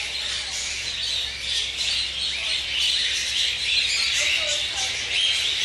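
Birds in an outback aviary exhibit chirp and squawk continuously in a dense, bright chorus, with a few nearer calls standing out among a crowd of birds.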